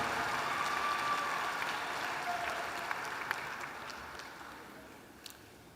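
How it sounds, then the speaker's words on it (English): Applause for MBA graduates at a business school commencement, a broad, distant-sounding wash of many hands clapping in a large hall that slowly fades, with a few sharper claps poking through. "One more round of applause for the 2024 graduates of the full-time one-year MBA"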